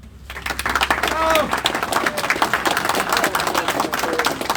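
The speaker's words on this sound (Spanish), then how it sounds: "y a su dirigente Cárdenas, un aplauso." Rondero peasant farmers at a meeting break into loud, close applause, a dense patter of many hands clapping that starts abruptly and continues steadily, with a brief voice rising over it.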